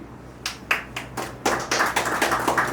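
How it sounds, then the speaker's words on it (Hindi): Audience applause at an office awards event for an ESI, PF and labour law consultancy, a burst of hand claps that starts sparse and swells into steady clapping from a nearby crowd. "एक बार जोरदार उमेश जी के लिए तालियां"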